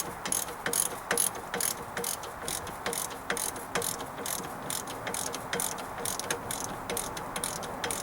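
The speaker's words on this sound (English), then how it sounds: "Tighten up our castle nut." Ratchet wrench clicking steadily as a castle nut is tightened on a sway bar link of a 1995 Dodge Ram 2500, a close series of sharp, evenly spaced ticks over faint background noise.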